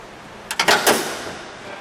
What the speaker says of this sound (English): Let's shut that hood as we put it together.